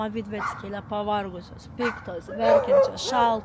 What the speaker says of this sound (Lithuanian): Mano šuo mato katę ir loja